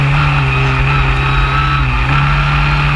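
Historic Formula Ford race cars roar around the Brands Hatch circuit at Druids. A loud, continuous engine drone holds with shifting pitch as the cars pass close by.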